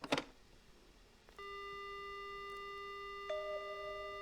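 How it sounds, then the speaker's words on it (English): A steady telephone dial tone in the horror game Death Mark starts after a brief click and holds continuously, a clean electronic tone with a small shift near the end. "The only sound I hear is the dial tone."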